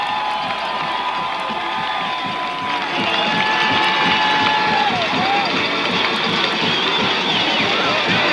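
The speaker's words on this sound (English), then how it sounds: "you can hear the cheer from the Sweetwater fans" Sweetwater football fans cheer in the stands at a high school game against Denison, a loud, sustained crowd roar with shouts and whistles running the whole stretch, voices mixed through the noise.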